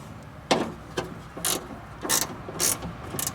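Ratchet tightening a 7mm bolt on an old, cruddy junkyard Ford Bullnose truck: several short bursts of rapid clicking, each a quick ratcheting stroke separated by brief pauses, close and fairly loud with no talking.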